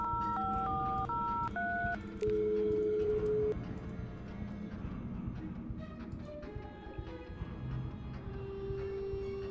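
A payphone in a video game is being dialed. A run of distinct touch-tone beeps sounds in quick succession over a steady background hum, with one long tone and then more scattered tones later on.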